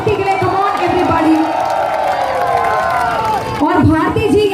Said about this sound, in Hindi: मैं चाहूंगी एक बार जबरदस्त तालियां हो जाए हमारी प्यारी भारती के लिए